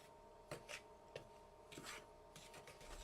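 A fork scraping the inside of a bowl while mixing ingredients, giving a few faint, short rasping strokes close by over a quiet hum.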